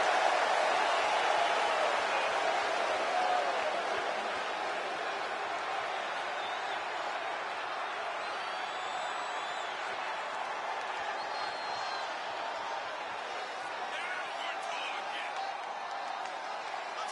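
Arena crowd in the wrestling video game WWE 2K24 cheers as a steady, dense roar throughout, slightly louder in the first few seconds before settling to an even level.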